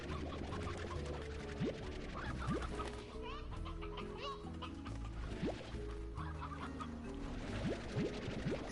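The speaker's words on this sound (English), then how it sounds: "Need at least one rooster in all of these pens." Chickens in a Slime Rancher farm pen cluck repeatedly over a steady game soundscape, several birds clucking in short irregular bursts at moderate volume without any talk.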